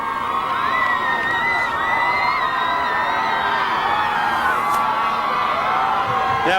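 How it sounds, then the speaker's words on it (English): A huge crowd at the Pittsburgh Steelers' Super Bowl XL victory parade cheers and whoops loudly and continuously, with shouting voices layered into a dense, sustained roar. "Listen to this crowd."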